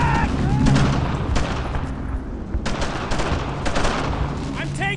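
Heavy World War II gunfire in the game Brothers in Arms: Earned in Blood, continuous rifle and machine-gun shots with booming impacts, loud and dense, with shouted voices mixed into the battle din.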